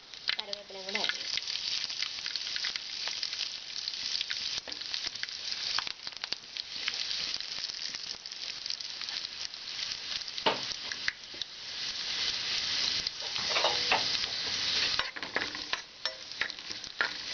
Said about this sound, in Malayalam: കടുക് പൊട്ടി നമുക്കിതിലേക്ക് വറ്റൽമുളകും കറിവേപ്പിലയും കൂടെ ആഡ് ചെയ്യാം